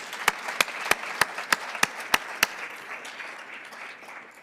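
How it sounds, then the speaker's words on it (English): Audience applause at a scholar-athlete recognition awards ceremony, opening with a run of loud, evenly spaced single claps close by, then settling into a softer, diffuse wash of clapping from the crowd. "So give yourself a round of applause,"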